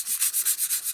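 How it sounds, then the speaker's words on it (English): Coarse-grit sandpaper rubs rapidly back and forth across the glossy face of a paper flash card, a close, loud, hissy rasp pulsing in even strokes about five times a second. "I'm going to start by sanding the shiny side of this"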